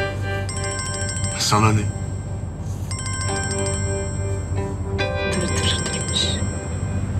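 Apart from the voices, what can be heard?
phone ringing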